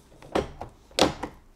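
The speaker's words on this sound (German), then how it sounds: "Die Tür nach oben abheben." A VW T-Roc interior door panel is lifted off its clips, giving a series of close plastic knocks and thunks: two strong hollow pops with softer clicks between them, and no speech.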